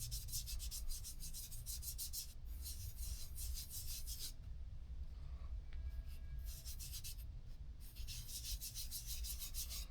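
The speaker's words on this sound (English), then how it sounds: "Okay, so we're going to strop that again." A pocket knife blade strokes back and forth on a strop loaded with compound, giving soft, grainy rubbing passes in a steady rhythm with two brief pauses, close and quiet with no voices.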